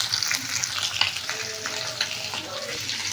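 Bottle gourd fries in a pan with ginger paste and spices, giving a loud continuous sizzle with a watery hiss and faint stirring scrapes throughout.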